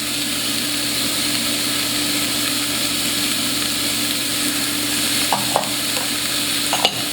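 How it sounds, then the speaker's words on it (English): Carrots, celery and garlic are stirred in a pot over a steady, loud sizzling hiss, with a few spoon scrapes and knocks toward the end; no one speaks. "Just give it a stir."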